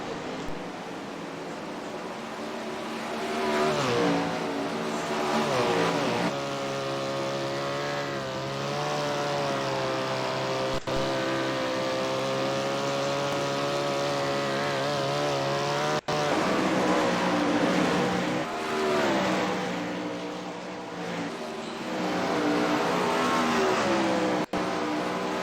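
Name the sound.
sprint car racing engine in World of Outlaws video game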